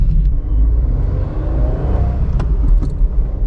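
A 2021 Maruti Suzuki S-Presso VXi+ small engine rumbles steadily from inside the cabin while the car is driven along a straight road, with a few faint light clinks over the low drone.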